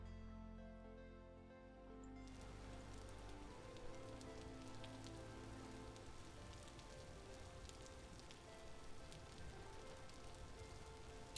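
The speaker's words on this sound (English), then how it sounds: "let me just remind you what it sounds like with rain." Steady rainfall in the survival game Vintage Story, a dense hiss of drops on surfaces that sets in abruptly after a quiet opening and then continues evenly, soft and unbroken.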